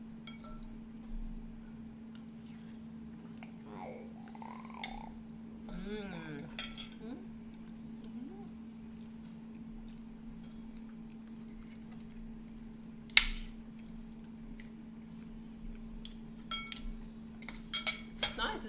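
A spoon clinking against dishes while a low-carb Asian moussaka is served, scattered light taps and clinks over a steady low hum, with one sharper knock and brief bits of quiet talk.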